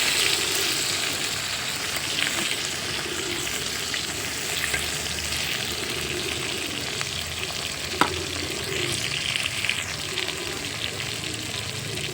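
Tilapia fish frying in oil in a pan over a wood-burning stove, a steady, dense sizzle running throughout with one brief click partway through, close and without speech.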